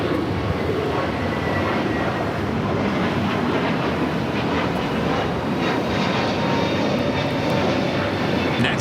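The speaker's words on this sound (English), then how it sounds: "It's a brand new A321neo with JetBlue heading to JFK." A JetBlue Airbus A321neo jet takes off at LAX, bound for JFK, producing a loud, steady, broadband engine roar that fills the whole stretch without letup, no voices over it.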